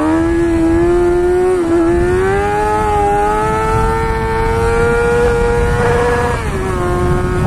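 A vehicle revs hard during a wheelie, a loud, steady engine whine that rises and falls slightly in pitch, close and continuous throughout with no talking.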